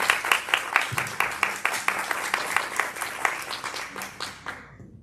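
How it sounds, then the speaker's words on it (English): An audience at a social justice monthly gathering applauds a speaker, dense steady clapping from many hands that holds for several seconds, then thins and fades out near the end. "please give Russ a round of applause"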